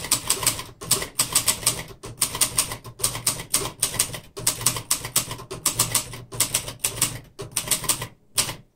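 A 1960s Royal Mercury portable manual typewriter clatters through quick, steady runs of keystrokes, close and crisp, broken by short pauses, with no talking.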